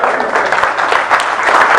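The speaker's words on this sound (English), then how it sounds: "we're going to clap it up" A high school football team claps loudly together in a huddle, close, energetic bursts of hand claps with voices mixed in.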